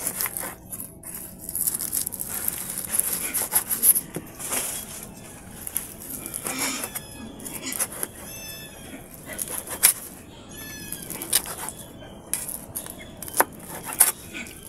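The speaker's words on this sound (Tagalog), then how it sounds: "Tapos na rin prito, ihiwain naman natin ng maliliit." Knife chopping fried pork innards into small pieces on a board, irregular close taps and knocks with a clatter of utensils now and then, no talk.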